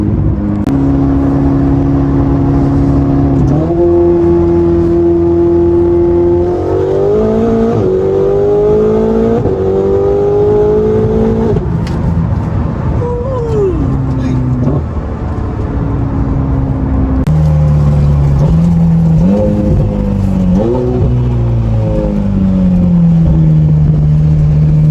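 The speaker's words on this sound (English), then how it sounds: "Hear the turbo whistles." A turbocharged Ferrari 4.8 engine revs and pulls through gears, loud and close, with a rising whine of turbo whistle over the roaring exhaust, pitch climbing and dropping across several shifts with no talking.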